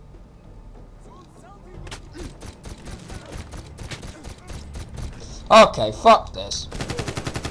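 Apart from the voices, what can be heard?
enemy gunfire in the video game Medal of Honor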